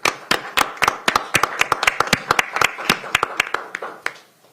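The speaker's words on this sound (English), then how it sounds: "Give them a round of applause." A round of applause from a small group at a council meeting, sharp claps rattling unevenly for a few seconds before thinning out and fading.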